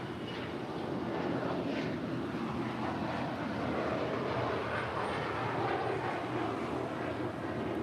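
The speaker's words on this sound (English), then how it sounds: "This Bombardier Global 6000 is departing to Grand Rapids" A Bombardier Global 6000 business jet departs LAX, its engines a broad, sustained roar that rises early and holds steady, loud and fairly close.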